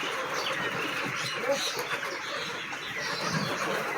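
Chickens clucking and murmuring softly indoors in a room where cages are being set up, with scattered low calls over a continuous background rustle and no clear talk.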